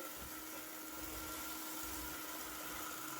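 A SwitchBot K10+ mini robot vacuum cleaner vacuums scattered sugar, giving a faint, steady whirring hum with a constant high hiss and no talking.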